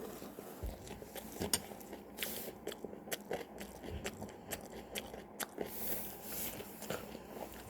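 Someone close by eating grilled gopchang wrapped in a leaf, with soft crunchy bites and steady wet chewing for several seconds, quiet and with no talking.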